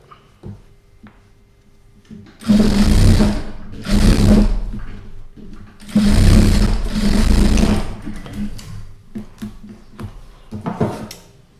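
Sewing machine stitching the side seam of a blouse sleeve in several bursts, each a few seconds long, separated by short pauses and small handling clicks.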